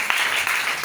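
A church congregation breaks into applause, a thick continuous wash of many hands clapping, loud and close, lasting under a second.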